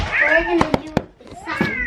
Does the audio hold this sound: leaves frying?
no